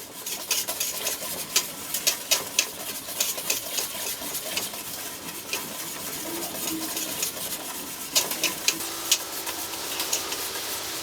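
A spoon stirring ice cream batter of cream and quail egg yolks in a pot on the stove, a continuous run of light scraping clicks and taps against the pan, close and unhurried, with a soft sizzle beneath.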